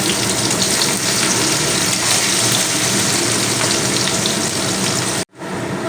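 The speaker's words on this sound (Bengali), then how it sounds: "ওই তেলের মধ্যে একটা কুচিয়ে রাখা বড় সাইজের পেঁয়াজ দিয়ে দিলাম" Large chopped onion dropped into hot oil in a home kitchen pan, giving a loud, steady broadband sizzle throughout that cuts out abruptly near the end before resuming faintly.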